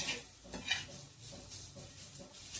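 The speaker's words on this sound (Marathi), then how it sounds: "असं तेलावर थोडं खोबरं परतलं की" Grated coconut roasting in oil with onion in a pan, a soft continuous sizzle with light stirring scrapes and occasional clinks of the utensil, quiet and close.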